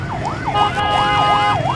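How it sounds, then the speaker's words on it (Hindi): An ambulance siren wails in a fast, repeating yelp close by in busy city traffic, rising and falling about five times against a rumble of engines and street noise. "ये पीछे एम्बुलेंस आ रही है, ये भी इसी ट्रैफिक में फंसती है।"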